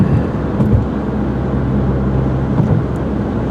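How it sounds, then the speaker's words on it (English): A tow truck in traffic makes an odd, loud, continuous rumbling drone, heard from nearby during a morning drive, with no talking. "Mr. Tow Truck making some funny noise."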